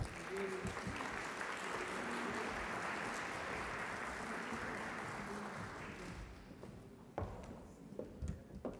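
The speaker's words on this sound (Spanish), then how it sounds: "Un aplauso para ella, por favor." Warm applause from an audience at a University of Chile education launch event greets a speaker, sustained for about six seconds before dying away into a few footsteps and light taps.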